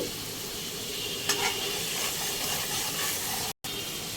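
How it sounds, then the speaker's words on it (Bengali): Spices, turmeric, salt and boiled potatoes being sautéed for a Bengali hilsa fish curry, giving a steady close sizzle and frying hiss with occasional stirring scrapes and a brief break near the end. "এবার এটাকে একটু ভালো করে কষাতে হবে। এর মধ্যে মশলা চলে যাচ্ছে হলুদ গুঁড়ো, নুন"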